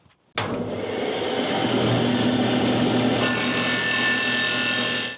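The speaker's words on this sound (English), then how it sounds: "So I'm gonna go sand these down real quick and get them to 3/4 of an inch." A power sander grinding down small replacement parts to three-quarters of an inch thick during a 1961 Buick LeSabre radiator upgrade, starting abruptly and running loud and steady without pause, its pitch shifting slightly partway through.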